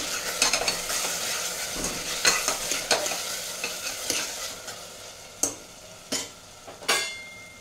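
A spoon scrapes and clatters repeatedly in a pan, stirring a homemade coriander-cumin powder and turmeric in hot oil, with a low sizzle running beneath the irregular, close-up knocks.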